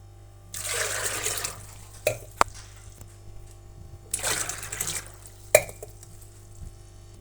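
Water is poured in two separate splashy bursts into a pot of vegetables and tomatoes for village-style sambar, each pour followed by a sharp metallic clink of the vessel, close and clear.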